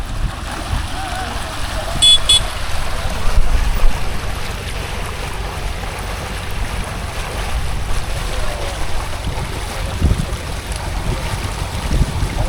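A tractor-driven pump pushes out water at a dewatering site in Amaravati. The water rushes and gushes continuously and loudly, with engine rumble and wind underneath and a brief high tone partway through.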